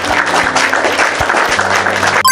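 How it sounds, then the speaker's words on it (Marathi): A group of people, likely children at an outdoor school game, clapping loudly together: dense, sustained applause close by for a couple of seconds, ending abruptly. "मग एकदा टाळ्या वाजवा सगळ्यांनी जोरात."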